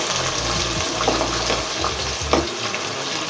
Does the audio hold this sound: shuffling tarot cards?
no